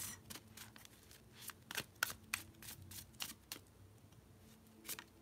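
A deck of cards being shuffled by hand, close up, a run of crisp riffling bursts and snaps in an irregular rhythm that trails off near the end, with no talk.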